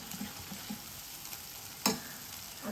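Onion-and-spice masala gravy sizzling in oil in a pan while being stirred, a soft steady frying hiss with faint scraping strokes and one sharper clink near the middle.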